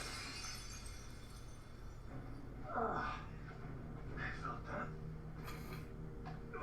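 Sugar glass shatters in a live-action fan film, heard as a quick crash and tinkle of breaking pieces in the middle, with scattered smaller clinks afterward over a low background rumble.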